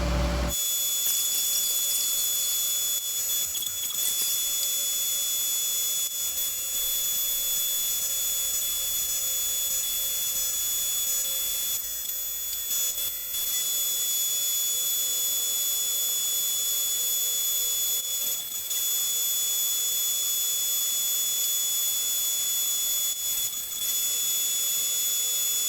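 A Tormach 1100MX CNC mill cutting metal with coolant makes a steady, loud machining whine and hiss. It holds a constant level throughout, with only slight dips and no voices.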